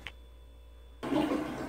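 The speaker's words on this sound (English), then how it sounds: "you can still hear my toilet flushing" A household toilet flushes, starting after a second of near quiet with a sudden rush of gurgling water that stays loud to the end.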